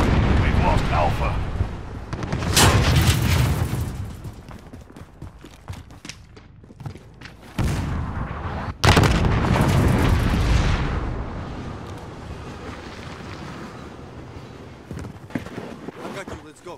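Gunfire and a grenade explosion in Call of Duty: Modern Warfare, heavy booming blasts and rumbling impacts layered under frequent shouted in-game voices, with one sudden loud burst partway through followed by a long fading roar.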